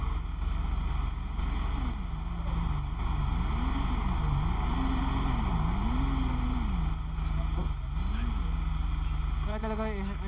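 A helicopter in the video game GTA drones on steadily and close, its engine tone rising and falling in gentle waves beneath a constant whooshing rotor hum for the whole stretch.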